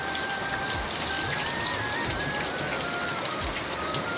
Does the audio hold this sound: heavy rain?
yes